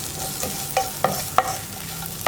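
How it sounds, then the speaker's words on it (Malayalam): A spatula stirs ridge gourd with fried dried shrimp for a Kerala thoran in a pan, giving several spaced, crisp scraping strokes with a faint sizzle beneath. "ഈ പടവലങ്ങയും ഉണക്കച്ചെമ്മീനും ചേർത്ത് നന്നായിട്ടൊന്ന് മിക്സ് ചെയ്യുക."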